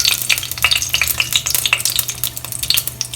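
Whole red chilies hitting hot oil for kadhi, alongside cloves, give off a steady close crackling sizzle with scattered sharp pops and bursts of stirring throughout.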